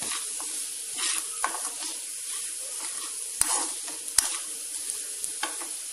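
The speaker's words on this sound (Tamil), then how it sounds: "இந்த 5 நிமிஷம் அப்படியே கிளறிட்டுனா மிளகு நல்லா வெங்காயத்தோடு சேர்ந்துடும்" Black pepper and onions fry in a pan, giving a steady soft sizzle broken by scattered scraping clicks as a spoon stirs them, close and moderately quiet, with no voices.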